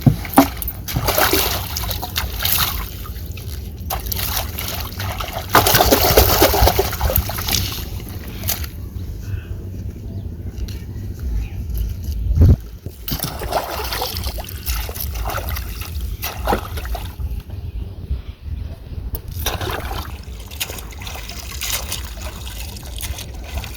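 Water lilies being washed by hand in a village pond, with ongoing splashing, sloshing and trickling water close by and occasional louder splashes.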